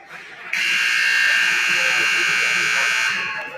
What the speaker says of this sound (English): Just as the buzzer goes off